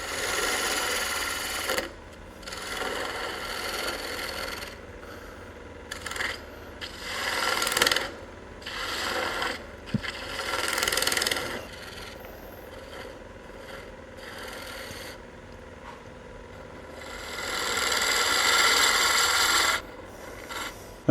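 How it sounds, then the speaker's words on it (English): Bowl gouge cutting a cedar wood Christmas ornament spinning on a lathe, a close, loud rasping scrape in repeated bursts of varying length, with brief pauses between passes. "we'll go ahead and come in with our bowl gouge here and do just a little bit more before we get down to the fine details"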